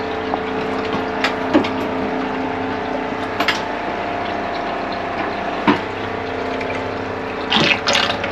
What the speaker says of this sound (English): this is the product water coming out